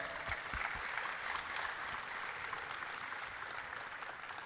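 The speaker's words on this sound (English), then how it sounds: "Give a big clap to all the Vietnam masters." An audience claps continuously, a full, even wash of applause that holds steady throughout without any pauses.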